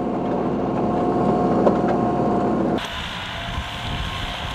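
Iseki TLE3410 compact tractor driving a Wessex rotavator, a steady broadband engine and tilling rumble that drops in level and tone partway through as the load or gear changes, with no talk.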